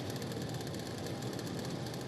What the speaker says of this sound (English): I can hear the engines have fired up